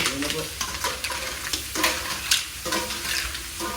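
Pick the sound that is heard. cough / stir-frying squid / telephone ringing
stir-frying squid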